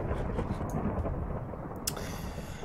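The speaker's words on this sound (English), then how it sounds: "So it is raining outside." Rain and thunder in the Minecraft video game: a steady, dense hiss of rainfall with a low rumbling roll of thunder beneath it, continuous and fairly loud, no talking.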